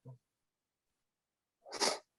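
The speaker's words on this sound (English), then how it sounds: "I had a sneeze, and it was like I was holding it in." A single sharp sneeze bursts out close up after a brief catch of breath, then silence.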